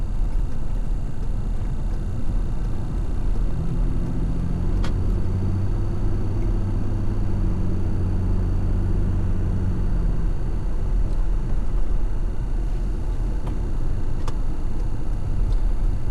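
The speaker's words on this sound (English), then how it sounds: "let me get on up here and go left with this truck" A Toyota Tacoma pickup truck drives toward a Buc-ee's car wash with a steady low engine and road rumble and a brief rising engine tone in the middle, no voices.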